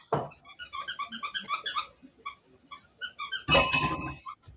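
A dog's squeaky toy chirps in rapid rhythmic bursts, bright high squeaks repeated many times up close, followed by a short rustling thump and a few more squeaks.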